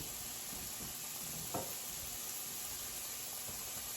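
Garlic sizzling in a little oil in a cooking pan, a steady soft frying hiss with faint stirring clatter and a brief louder scrape near the middle.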